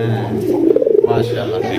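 A domestic pigeon at a pigeon sale gives a close, low, rolling coo that swells and warbles for about a second, over a steady background hum.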